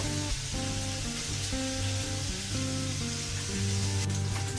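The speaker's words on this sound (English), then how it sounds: "our bacon's been cooking for about 4 minutes, give or take, stirring that around every so often" Bacon sizzles in olive oil in a pan, a steady, even crackle that carries through the whole stretch at moderate loudness, with a sustained tonal hum running beneath it.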